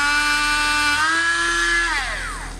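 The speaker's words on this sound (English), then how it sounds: "a Dremel, preferably spinning at a very high RPM" High-pitched whine of a Dremel rotary tool spinning fast, its pitch shifting as it bites into a rubber RC crawler tire, then winding down.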